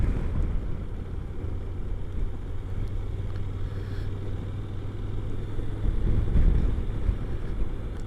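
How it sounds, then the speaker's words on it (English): Wind buffeting the microphone while riding a Honda NC750X motorcycle near water on a windy day, a continuous low rumbling roar with engine drone underneath and no talk. "It's pretty windy today"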